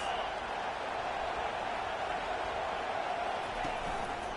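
Stadium crowd at an American football game, a loud continuous roar held at an even level throughout.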